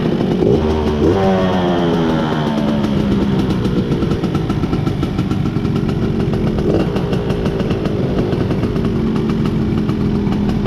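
A Suzuki Crystal motorcycle engine idles with its exhaust, a loud steady rumble that holds throughout with a brief rev near the start.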